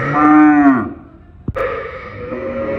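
A native cow at a cattle market gives a loud, close moo lasting under a second, followed by a short knock and a steady murmur of background noise.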